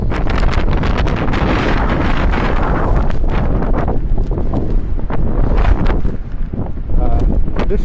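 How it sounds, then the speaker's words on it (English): Strong wind buffets the microphone during a heavy snowstorm in Georgia, a loud continuous roaring rush with gusty surges throughout. "It's snowing hard. It's windy."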